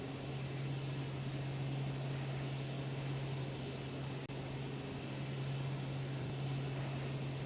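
Steady drone of a Piper M500 turboprop engine in Microsoft Flight Simulator 2020, a constant loud hum with broadband whooshing noise, unbroken and alone for the whole stretch.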